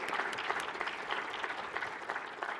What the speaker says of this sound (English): And I'd like to invite everyone to welcome them with a round of applause.